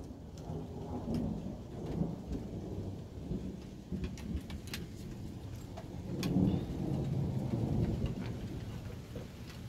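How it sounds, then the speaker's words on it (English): Rolling thunder rumbles low beneath steady rain, with scattered drops pattering close by throughout and the rumble swelling louder toward the end. "Listening to the thunder and watching the lightning."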